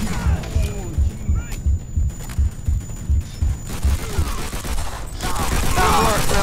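Machine gun nest firing in a World War II trench battle video game, steady rhythmic bursts of heavy thuds repeating about every half second, with distant battle noise and rising commotion toward the end.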